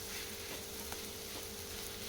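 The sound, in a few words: stirring bitter gourd fry in pan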